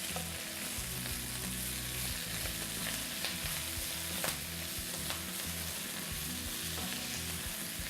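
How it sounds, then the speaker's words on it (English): Kale sautés in hot, spitting oil, a steady dense sizzle and crackle with occasional louder pops, close and continuous with no talking. "Be careful for that hot oil spitting"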